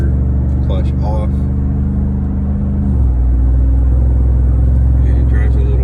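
A car with a 6L80 automatic transmission drives with the torque converter clutch off, giving a loud, close, constant low engine and road rumble whose pitch drops midway, while a person talks over it.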